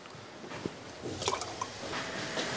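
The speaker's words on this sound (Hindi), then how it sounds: "दो लीटर पानी इसके अंदर शामिल कर देंगे" Two liters of water poured into a pot of cooking chicken nihari, a soft, steady splashing and gurgling that stays fairly quiet and close throughout, with no talking.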